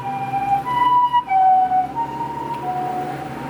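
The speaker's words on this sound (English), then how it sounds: "Sirens here are definitely different pitched." An ambulance siren wails in a street scene, its tone stepping between two pitches in a steady alternating pattern, fairly close and loud over background traffic.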